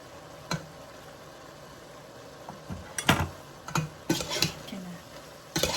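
Lasagna ingredients being stirred together in a bowl after salt and black pepper go in, with scattered scraping and clinking of a utensil against the dish, a few louder knocks bunched toward the end.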